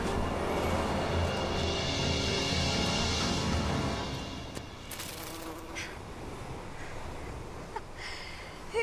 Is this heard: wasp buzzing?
yes